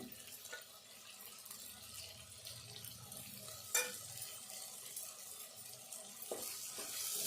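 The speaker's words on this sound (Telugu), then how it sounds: "పప్పు ముందు వేసుకొని కొద్దిసేపు వేపుకోవాలి" Moong dal and green chillies frying in a pan for a bottle gourd dal dish give a steady, moderate sizzle, with scraping stirs throughout and one sharp metallic clink midway.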